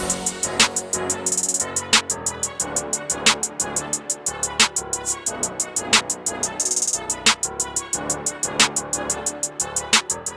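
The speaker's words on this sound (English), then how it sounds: "It's got this snare right here, just a basic pattern" A steady snare pattern cracks through a busy electronic FL Studio beat with fast ticking hats, looping evenly throughout.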